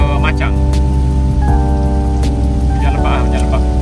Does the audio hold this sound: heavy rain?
yes